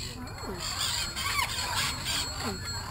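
Exotic pet bird at a Florida bird rescue letting out shrill, rising squeals several times over about three seconds, close and loud, with people talking in the background.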